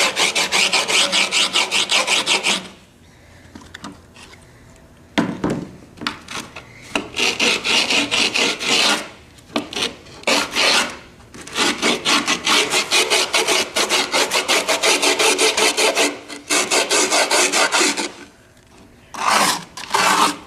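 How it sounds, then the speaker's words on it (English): A screwdriver rubs and scrapes grip tape along the edge of a skateboard deck in repeated raspy strokes, loud and close, broken by short pauses between bursts. "you got to take your screwdriver and start rubbing away at the board"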